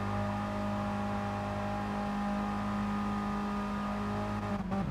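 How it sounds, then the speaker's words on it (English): A racing car in a racing video game revs hard up to its rev limiter, a loud, dense, buzzing engine drone held steady for several seconds with no talking. "listening to that revs, making sure he hits the limiter there"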